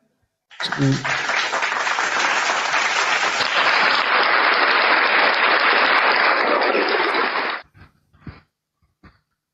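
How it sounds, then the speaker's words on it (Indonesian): A loud burst of applause from an audience at a religious talk starts suddenly, holds full and even for about seven seconds, then stops abruptly, leaving a few faint scattered sounds. "Silakan sahabat-sahabat kalau masih mau tepuk tangan, waktu dan tempat masih diberikan."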